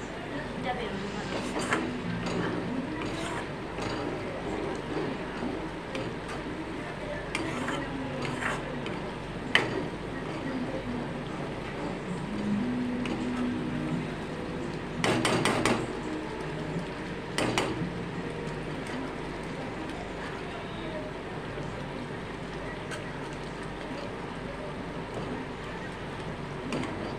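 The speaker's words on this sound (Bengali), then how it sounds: "যত ফুটবে জিনিসটা ততটাই ঘিটা বেরিয়ে আসবে।" Cream boils in a pan on the stove, cooked down into ghee over alternating low and high flame, giving a steady busy bubbling and crackling with scattered ticks and a few sharper clinks throughout.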